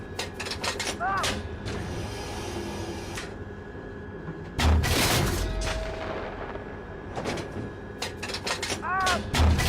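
Gunfire crackles in bursts during an ad hoc live-fire exercise, with a dense run of rapid shots, a heavy booming blast midway, then more sharp reports, all loud and close with voices calling over the noise.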